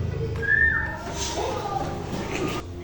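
A short, wavering whistle from a person, fairly faint, with low rumbling background noise around it.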